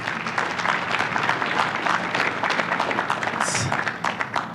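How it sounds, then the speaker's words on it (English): Audience at a contractor summit breaking into applause, loud and continuous clapping from a large crowd across the whole stretch, with a short cheer or whistle rising near the end. "So just let's just give this guy some applause."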